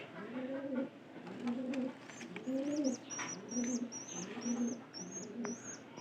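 Pigeons coo in a steady, repeating rhythm of low throaty calls, while small birds chirp faintly overhead in the background.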